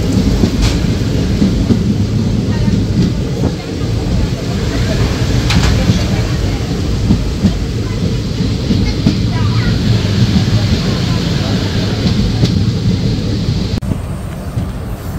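Kolkata-to-Digha special fare train running on a single line past Tamluk in the rain, a steady close carriage rumble with hiss and occasional sharp knocks, voices faintly present under the noise.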